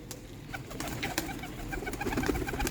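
Rare Sialkoti rooftop pigeons coo continuously, a close, soft run of throaty calls over faint background rustle and a few sharp ticks.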